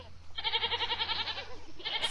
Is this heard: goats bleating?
yes